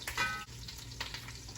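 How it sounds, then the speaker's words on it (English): Basil stirred around in butter in a pan on fairly high heat, a soft close sizzle and frying crackle with brief utensil scrapes, quiet and short. "so once that's in there, I'm stirring this around"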